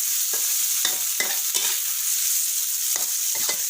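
Sliced pork and garlic stir-fried in a pan for a homestyle cucumber dish, a steady close sizzle broken by repeated scraping stirs of the spatula.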